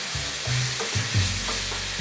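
Ketchup is stirred into bolognese meat sauce in a pan, giving a continuous close sizzle with soft scraping and shifting strokes from the spoon, and no voices.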